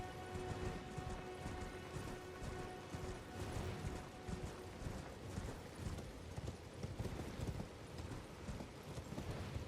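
A horse gallops in the Elden Ring video game, with rapid rhythmic hoofbeats that run steadily throughout and are faint in the mix, under a thin sustained tone.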